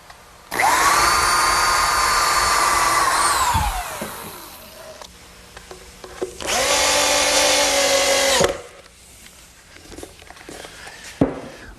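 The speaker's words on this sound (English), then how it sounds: "those get attached with some more drywall screws" A power driver sinks drywall screws into sawhorse legs in a woodworking shop: two loud, close whirring runs of a few seconds each, rising and dropping in pitch, separated by quiet handling clatter, no talking.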